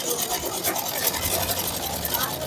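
A sewing machine stitches a shirt with a fast, steady mechanical whir and rapid needle chatter, heard up close while a person talks over it.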